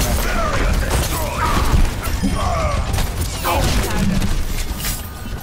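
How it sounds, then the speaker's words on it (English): Pharah's rocket barrage in Overwatch, a rapid string of loud explosions and crackling blasts pounding continuously over several seconds amid chaotic battle noise, with voices talking underneath. "the rocket barrage"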